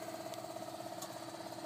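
The turbocharged Cat engine of a Vermeer T655 track trencher runs at a steady idle, a faint, even hum with a couple of soft clicks, heard from some distance with no talk.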